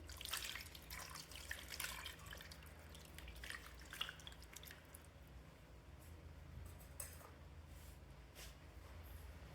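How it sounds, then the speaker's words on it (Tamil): Tamarind water poured onto paarai fish in a kitchen, faint dripping and splashing liquid sounds that are busiest at first and thin to scattered drips. "அதுக்கு ஃபஸ்ட்டு மீனில் புளி ஊற்றிக்கலாங்க."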